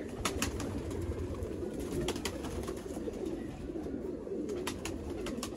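Red-eyed A-class pigeons coo steadily and close up in a loft in the Sialkot border area, with soft overlapping calls continuing over a constant low background murmur and brief clicks.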